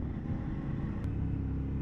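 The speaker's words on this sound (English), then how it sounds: "This engine is beautiful." Suzuki V-Strom motorcycle engine running steadily on an open road, a continuous low rumble with constant loudness and no pauses or changes in pitch.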